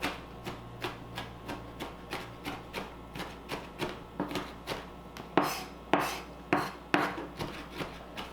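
A knife chops green onions on a cutting board in steady, evenly spaced strokes, each a crisp knock, growing slightly louder and sharper toward the end.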